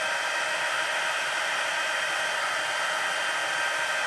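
Heat tool blowing steadily to heat-set embossing powder on a deeply stamped image for card making, a loud continuous hiss that stays even throughout, with no talking.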